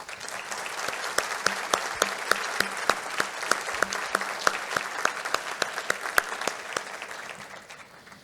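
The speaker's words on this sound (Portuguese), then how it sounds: "peço a todos uma salva de palmas" A large audience applauds at the opening ceremony of a professional congress, a dense sustained wash of clapping with sharp individual claps standing out, holding steady for about eight seconds before easing slightly at the end.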